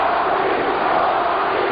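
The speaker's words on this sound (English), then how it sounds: "The crowd is going crazy. They're chanting his name." Wrestling arena crowd roaring and chanting The Rock's name, a dense, steady wall of many voices filling the space at close range throughout, with no single voice standing out.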